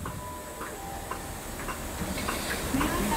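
Southern Railway steam locomotive No. 34052 Lord Dowding stands at the platform at Reading, giving off a steady loud hiss of steam with faint rhythmic ticks and clanks beneath it.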